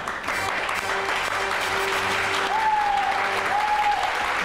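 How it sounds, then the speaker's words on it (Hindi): Guests on a television show clap in a steady, fairly loud burst of applause, with a sustained tone and some faint voices mixed underneath. "तालियां"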